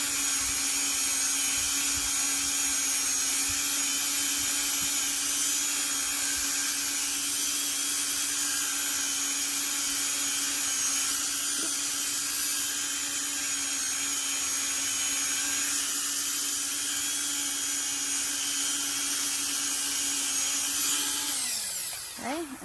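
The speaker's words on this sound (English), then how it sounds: "you can spend a lot more time buffing this if you're not on camera" A polymer clay pendant is buffed against a spinning wheel on a rotary tool, giving a steady, close, high-pitched whine that continues unbroken for over twenty seconds before the tool winds down at the end.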